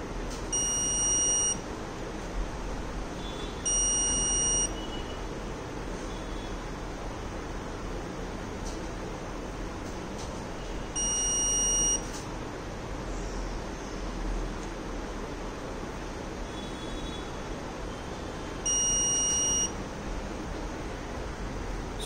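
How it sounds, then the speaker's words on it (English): A smart helmet's accident-alert buzzer beeps in short repeated bursts, spaced a few seconds apart, ten alerts in all, over a steady background hum with no talking. "So here we can see it is exactly gives 10 times buzzer alert."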